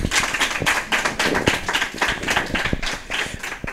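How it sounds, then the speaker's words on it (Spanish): A crowd claps loudly for the Fallera Mayor at a Valencian falla ceremony, a close, continuous patter of many hands with uneven sharp claps standing out throughout. "un fuerte aplauso para ella"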